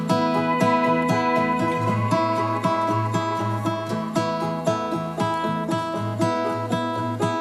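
Layered pedal steel and sampled banjo in a country-folk worship song arrangement: steady plucked banjo rhythm with sustained, gliding steel tones over a low bass pulse, full and even throughout.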